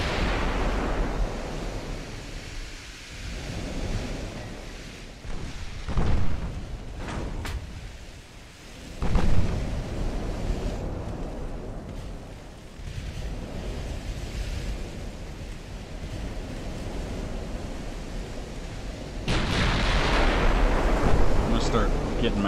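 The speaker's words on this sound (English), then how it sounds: "Big guns firing on one of his battleships" Battleship main guns fire in a naval battle from Ultimate Admiral: Dreadnoughts, a few heavy booming blasts rising out of a constant rumbling wash of sea and wind, with the last surge swelling loudly near the end.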